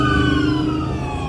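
A wailing fire engine siren sounds steadily throughout, loud and continuous with traffic noise underneath.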